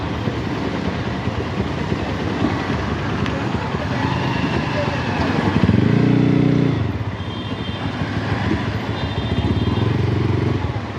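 Engine noise from a Taro GP 1 V3 motorcycle being ridden through city traffic around Hatirjheel, a steady roar with a louder accelerating swell midway, mixed with surrounding road traffic and voices.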